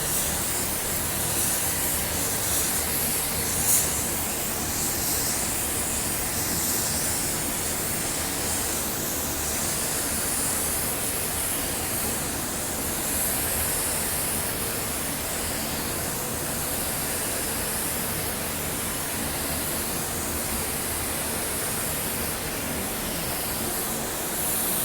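A spray gun lays down clearcoat in a continuous, even hiss that holds steady and loud from start to finish, with no pauses or talk.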